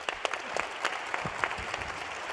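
A modest group applauds with scattered, uneven claps at a moderate distance, steady throughout.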